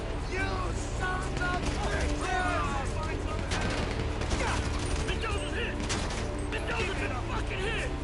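Scattered gunshots and bursts of fire in GTA crackle through a busy game soundscape, with people talking excitedly over the shooting throughout.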